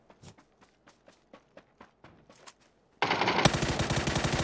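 Rapid automatic gunfire from a cheater's weapon in the PUBG video game bursts in loud and sustained after a run of quieter, evenly spaced thuds like footsteps.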